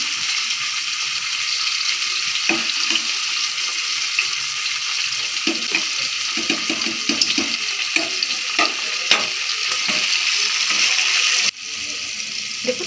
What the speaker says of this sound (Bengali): এবার কড়াইশুঁটিগুলো একটু হালকা ভেজে নেব।